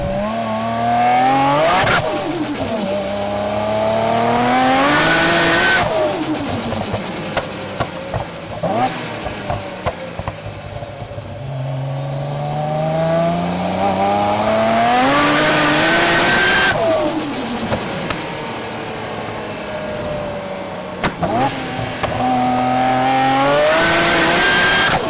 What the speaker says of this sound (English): R33 is the best sounding engine on planet Earth